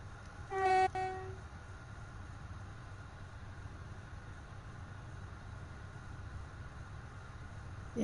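A train in the video game Train Simulator 3 gives one short horn blast near the start, then a steady low rumble of running continues alone for the rest.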